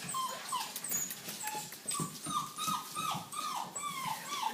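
A six-week-old red male puppy whimpers and yips in a steady run of high, thin cries, close by and fairly quiet, with no talk over it.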